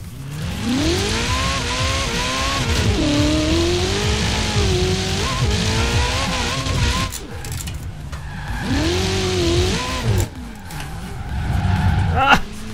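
A Ferrari Pista drifts in Forza Horizon 4, its mid-mounted engine revving and wavering as tyres squeal in long sliding skids, with a brief pause before another drift; someone talks over the engine.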